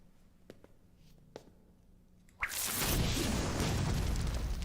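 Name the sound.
Bombarda spell explosion sound effect in radio drama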